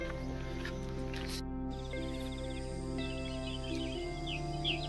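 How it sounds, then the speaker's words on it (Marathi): Birds chirp around a traditional farm in the Konkan region, with small scattered tweets, a few sharper calls near the end, and a steady low hum underneath. "बर्ड साऊंड, पक्ष्यांचा आवाज येतोय की नाही बघा"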